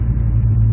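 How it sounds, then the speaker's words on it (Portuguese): Big jeep engine revving on a street, a close, loud, steady low rumble throughout a brief moment with no voices. "Olha a tiazinha acelerando eu com o jipão"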